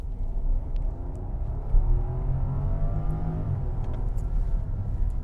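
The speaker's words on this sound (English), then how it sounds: "let's go ahead and pull out onto the road with that massive twin turbocharged V12 engine" Steady, smooth engine rumble heard from inside a 2022 Rolls-Royce Ghost as its twin-turbo V12 pulls away onto the road, a low, muffled and well-isolated hum that slowly rises in pitch with no talking.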